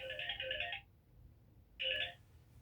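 A phone ringtone from an incoming call plays in two bursts of a bright repeating electronic melody, separated by a short pause, fairly quiet and heard on its own.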